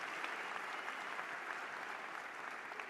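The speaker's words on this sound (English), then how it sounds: "We need to give her a round of applause." Dense, steady applause from a conference audience at the 43North finals, honoring Governor Kathy Hochul, a continuous wash of many hands clapping at even loudness for about three seconds with no voices.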